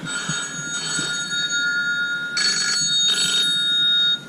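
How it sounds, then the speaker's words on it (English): A mobile phone rings in a dairy milking parlour during servicing of a Fullwood pulsator, two bright electronic ring bursts standing out over a steady mechanical hum and faint background noise. "that's my phone ringing."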